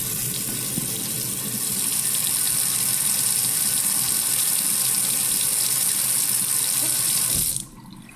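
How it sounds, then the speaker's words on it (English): Cold water runs from a kitchen tap over salmon being rinsed, a steady close gush that stops abruptly near the end. "Cold water. Just rinse off."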